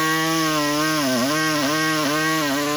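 A saw cuts through body filler on a metal arcade control panel, a loud, steady buzzing drone with a few dips in pitch as the blade bogs down, heard alone.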